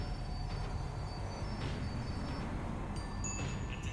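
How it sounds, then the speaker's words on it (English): Tram slowing to a stop in Max Payne 3: a steady low rolling rumble of rail wheels with faint metallic squeal and clatter above, continuous and moderately distant throughout. "The tram was slowing down, and I'd only just gotten on board."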